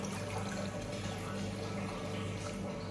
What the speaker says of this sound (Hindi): इसके अंदर एक गिलास पानी डालना है